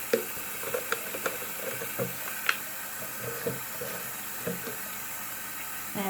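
Hot tap water runs steadily into a bathroom sink, a soft continuous wash with occasional small clicks and knocks of items handled nearby, fairly quiet and close.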